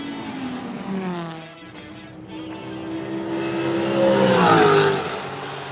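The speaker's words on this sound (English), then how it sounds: "a variety of actual race cars in very serious teams that were just pure eye candy and eargasms as they carved through the field" Race cars at Sydney Motorsport Park during the NSW 6 Hour scream past one after another, their engine notes sweeping and rising as they approach and then fading, loud and close, with no talk.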